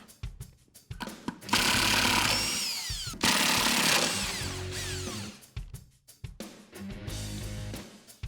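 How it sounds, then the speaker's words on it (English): Impact or power tool removing lug nuts from a Jeep Wrangler JK wheel with a 21mm socket, several loud close whirring bursts with short pauses between them. "you're gonna use a 21mm socket, take all 3 of these lug nuts off, and you can pull your tire off"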